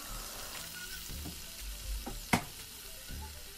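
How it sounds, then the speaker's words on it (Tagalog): Food sizzling in a pan for a Filipino breakfast while being stirred, a steady close fry with a few scraping stirs and one sharp clack of the utensil against the pan. "halu-haluin natin siya"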